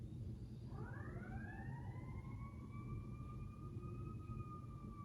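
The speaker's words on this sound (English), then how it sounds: "That's the first time I've heard the fire trucks go off" A fire truck siren rises and holds a long steady wail in the distance, its tone climbing gradually over steady low traffic rumble.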